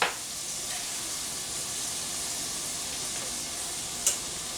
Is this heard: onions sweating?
yes